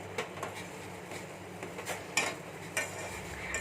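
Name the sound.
stirring kadha ingredients with cloves and grated ginger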